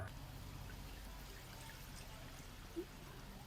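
Rice water (kanji) mixed with a little plain water is poured out in a faint, steady trickle with no talking, and a soft splash sounds near the end.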